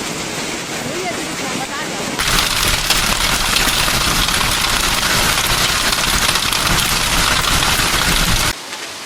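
Heavy rain mixed with hail in Sichuan pours through markets and alleys, a dense, loud, continuous roar that swells sharply after a couple of seconds and cuts off near the end.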